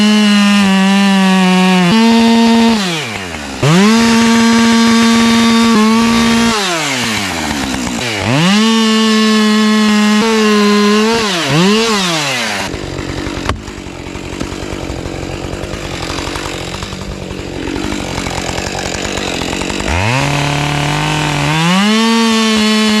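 A chainsaw fells a tree in woodland where a wildlife pond is being built. The engine revs loudly and repeatedly, rising and falling as it bites, then idles roughly before revving again.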